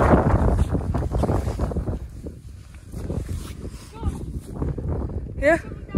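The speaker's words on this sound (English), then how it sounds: "It's so windy and so cold up here." Strong wind buffets the microphone on an exposed mountain summit at Mount Longdon, loud rumbling gusts that rise and fall, with people talking briefly over it.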